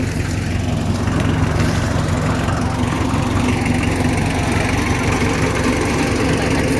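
Small petrol engine of a pesticide sprayer runs steadily in a maize field, a continuous close, loud drone with rough low vibration throughout, no talk over it.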